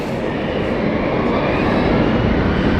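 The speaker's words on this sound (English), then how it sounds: "Here's the Exeter flight." A loud, steady roar of an airplane engine as the Exeter flight passes overhead at London City Airport, broad and rumbling with no break for nearly three seconds.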